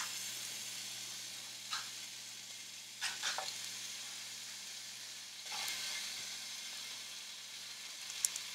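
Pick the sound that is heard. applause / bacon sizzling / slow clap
bacon sizzling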